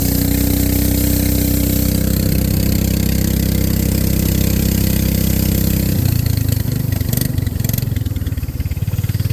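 A Predator 420cc engine bolted onto a 1992 Hyundai golf cart runs loud and steady at close range, its tone shifting partway through as the revs change, with no talking.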